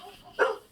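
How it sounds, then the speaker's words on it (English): A single short dog bark, muffled and fairly distant, rising briefly over a quiet room background with low hum. "Sorry about my dog there."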